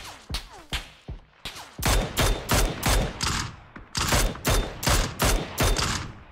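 Gunfire in PUBG on the Erangel map: a few scattered shots first, then loud, sharp reports in a fast, even rhythm, some close and punchy, with brief gaps between runs.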